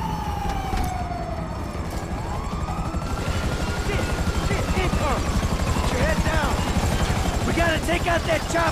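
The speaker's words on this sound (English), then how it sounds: "Take out that chopper!" A police helicopter in GTA 5 drones continuously with a low rotor chop, mixed with wailing sirens that sweep up and down and busy game action, all loud and close.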